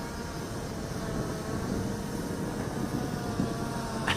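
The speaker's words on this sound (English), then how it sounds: "You can hear the drone in the background." A drone hovers somewhere above an outdoor FootGolf World Championship course in Acapulco, giving off a steady, distant motor hum that stays level under broad open-air noise.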